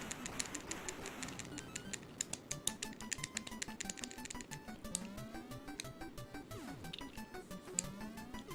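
Rapid clattering keystrokes on a computer keyboard continue steadily and close up, with an irregular rhythm of individual clicks and no talk over them.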